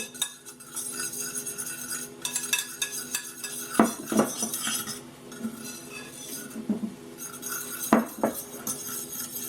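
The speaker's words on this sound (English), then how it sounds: "just going to mix together the oat flour, the almond flour, and the salt" Oat flour, almond flour and salt being stirred together in a bowl, a utensil clinking and scraping against the sides in irregular knocks, close and fairly quiet, with no one speaking.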